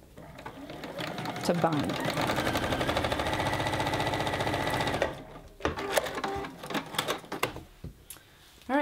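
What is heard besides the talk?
sewing machine stitching a quarter-inch seam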